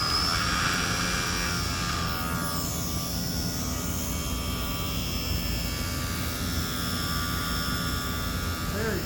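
A Blade mCPX BL2 RC helicopter flies at about 90% throttle and 90% pitch, giving a steady high-pitched whine with a continuous buzzing hum that holds level throughout, close to the listener.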